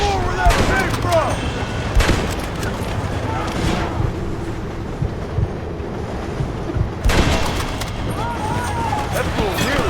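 Gunfire in Red Dead Redemption rings out as loud, sharp bursts in the opening seconds and again later, set among voices talking and a busy outdoor ambience.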